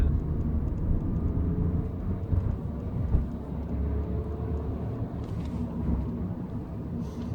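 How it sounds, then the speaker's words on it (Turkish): A Skoda Octavia 1.0 TSI engine drones steadily inside the cabin, a low rumbling hum holding constant with slight swells as the car moves. "Aynen motor sesi"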